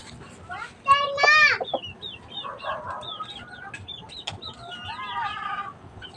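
Chickens clucking and a rooster crowing nearby, with repeated short bird calls over a steady outdoor background and some voices, in a backyard farm; one bird has a broken tail.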